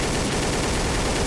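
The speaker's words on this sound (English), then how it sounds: "I'm just shooting at things." Dense, rapid gunfire rattles nonstop in a Trouble in Terrorist Town round, loud bursts of shots overlapping in a continuous barrage.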